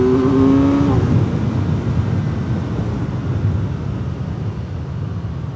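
2025 Kawasaki Z900 SE motorcycle at full throttle. The engine climbs for about a second before the whine fades, and loud, rushing wind and road noise carry on for the rest of the clip. No one speaks.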